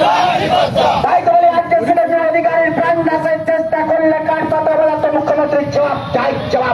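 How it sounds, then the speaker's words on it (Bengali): A crowd of BJP party workers chants in unison at a protest march in Keshapat, East Midnapore, where tyres are burned; loud, continuous massed voices fill the whole stretch with no pauses. "এই দিন কেশাপাটের বিজেপির দলীয় কর্মীরা টায়ার চালিয়ে ও তাদের বিক্ষোভ মিছিল প্রদর্শন করে"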